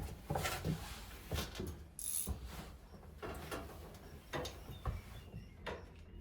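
Ratchet clicking as a bolt is tightened on a race car in a garage, irregular bursts of mechanical clicks and strokes, close and fairly quiet, with small knocks between.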